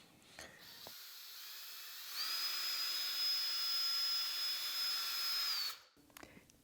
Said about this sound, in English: That's a bunch of power, a bunch of torque coming from this power drill.